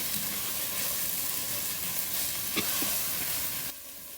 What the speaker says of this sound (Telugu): ఇది మంచిగా పచ్చివాసన వెళ్ళేలాగా ఫ్రై చేస్తున్నాము